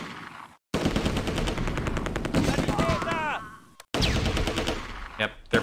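Machine-gun bursts from a .30 cal in the Close Combat video game, rapid rattling volleys filling most of the stretch with brief gaps, alongside other gunfire and a whistling shell-like tone in the middle.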